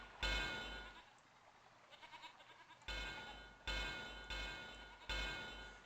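Sheep bleat in Railroad Tycoon II, several wavering calls in a row, the later ones coming in quick succession at fairly close range with no speech over them.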